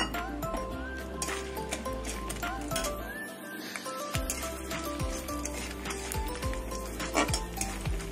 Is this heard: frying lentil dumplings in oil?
yes